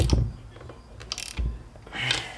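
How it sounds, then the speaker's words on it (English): A ratchet wrench tightens the master cylinder onto the brake booster of a Jeep XJ Cherokee, a few quick, close mechanical clicking bursts with metallic clatter and knocks in a garage setting. "Love these ratchet wrenches,"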